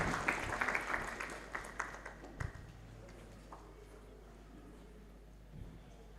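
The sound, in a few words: audience applause at a school conference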